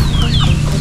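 Roosters on a backyard poultry farm clucking and calling close by, a steady busy flock chatter with short overlapping squawks and no talking.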